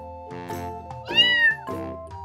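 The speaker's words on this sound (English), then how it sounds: "C is for cat." A cat meows over a steady musical backing track in a children's alphabet song, a short series of close, clear meows rising to one louder drawn-out call in the middle.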